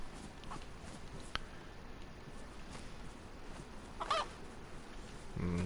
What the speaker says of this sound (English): I hear a zombie chicken.